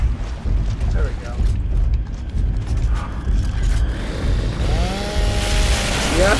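A chainsaw in the video game Gears of War 2 grinds and revs loudly and continuously amid heavy mechanical battle noise, with creaking and booming layered in, a dense roar from start to finish.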